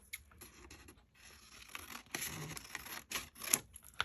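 Scissors snip through paper while crafting scrapbook pocket pages, giving quiet, close, intermittent crisp cuts and rustles in short bursts.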